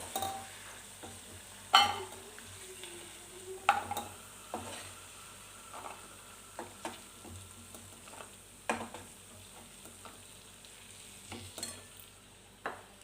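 Cashews frying in oil in a pan, a soft sizzle beneath irregular scraping and clinking strokes of a spoon against the pan, close but fairly quiet, with no talking.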